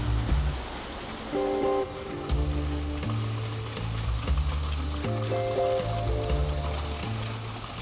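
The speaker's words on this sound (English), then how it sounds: "we hopped onto a rattling railway cart, pulled by a mule, to a hidden cenote" A mule-pulled railway cart on a Yucatán hacienda track rattles and clanks close by, with a steady, rhythmic mechanical clatter of wheels and metal running throughout.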